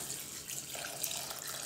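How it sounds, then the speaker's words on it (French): Cold water, about 700 ml, runs from a tap into a pot of lentils in a home kitchen. The splashing is steady and soft and lasts under two seconds. "Et je mets 700 ml d'eau froide."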